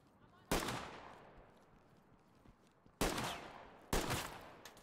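Three sharp gunshots ring out in a Cyberpunk 2077 firefight, each a loud broadband crack with a decaying tail, the first alone and the last two close together, over low background noise.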